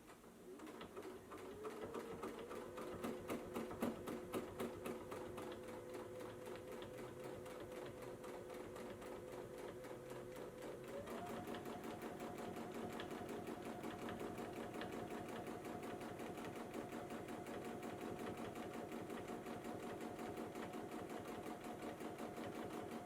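Sewing machine quilting a stitch-in-the-ditch seam, running steadily with a rapid, even needle rhythm for the whole stretch; the motor pitch steps up partway through, fairly quiet and with no talk.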